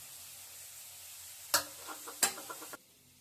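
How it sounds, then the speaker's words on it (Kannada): Green chilies dropped into a hot pan while making pasta, giving two sudden bursts of sizzling with small crackles that cut off abruptly after about a second. "ಇವಾಗ ಹಸಿಮೆಣಸಿನಕಾಯಿ ಹಾಕೋಣ."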